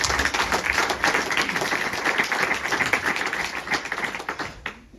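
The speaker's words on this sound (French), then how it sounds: "On peut les applaudir." Warm audience applause at a local Téléthon charity gathering, many hands clapping densely and close, holding steady before tapering off and stopping just before the end.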